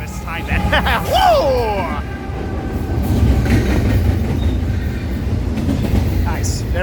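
Norfolk Southern freight consist rolling past at Fullerton, loud and close, with steady wheel clatter and rumble and a brief squeal early on, while people talk nearby.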